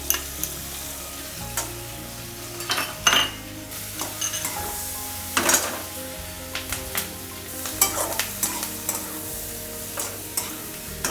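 Garlic and capsicum sizzle in a pan for white sauce pasta while a metal spoon stirs, clinking and scraping against the pan in irregular bursts over a continuous frying hiss, no talk.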